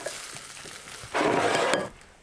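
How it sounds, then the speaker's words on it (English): Cooked rice sizzling in a hot pan, a quiet crackle that swells into a loud, steady hiss for about a second before fading. "You can hear it sizzling away."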